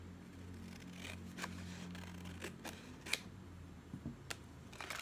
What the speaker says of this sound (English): I'm gonna cut this part out.